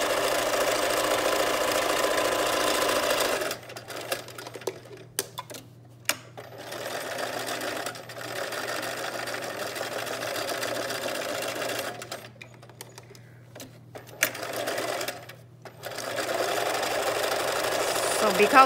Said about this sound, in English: you're just gonna run your presser foot along the edge of the fabric the first time